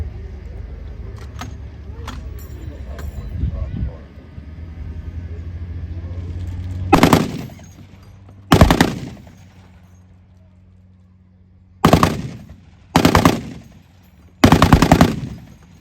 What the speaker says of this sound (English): Gentlemen, please put your hands together for our 50 cal machine gun.